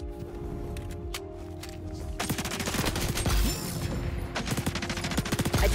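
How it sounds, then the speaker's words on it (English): Gunfire in the shooter game XDefiant: sparse distant shots at first, then dense rapid bursts of automatic fire that grow louder and keep rattling to the end. "Shots behind me."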